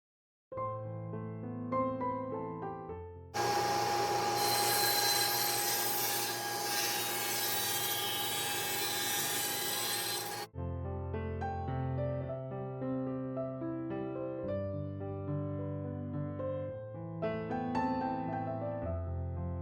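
Wooden panels for a primitive home decor project being cut to trim off the excess, a dense, loud, steady cutting noise for about seven seconds, with quieter music before and after.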